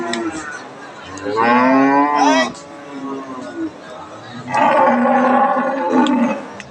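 An Australian Friesian dairy cow at a village cattle market lets out two long, loud, close moos, with a crowd murmuring steadily in the background.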